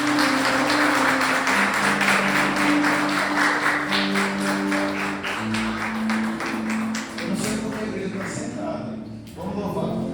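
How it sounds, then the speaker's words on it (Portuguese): A church congregation claps during a worship service, a dense, loud round of applause lasting about ten seconds, with a sustained musical tone and voices running underneath. "Você pode aplaudir o Senhor por isso."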